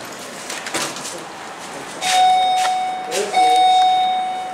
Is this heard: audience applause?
no